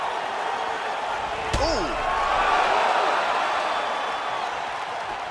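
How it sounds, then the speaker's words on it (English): Crowd in a UFC 4 bout between Israel Adesanya and Jon Jones swelling into a loud roar after a sharp strike lands, with a short exclaimed voice over a steady arena murmur. "you hear the crowd react every time they come together"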